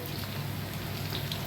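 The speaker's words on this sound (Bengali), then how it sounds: "ওটাকে বের করে করে তেলে ডুবাচ্ছি" Battered egg chops deep-frying in hot oil, a steady dense crackling hiss like rain, close and loud throughout with no talk.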